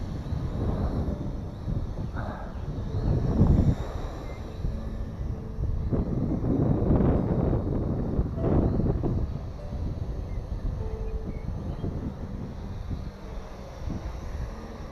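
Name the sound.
strong wind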